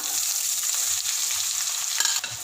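Finely chopped onions fry in hot oil, a bright steady sizzle with soft crackle and a few light stirring clicks toward the end, alone and fairly quiet.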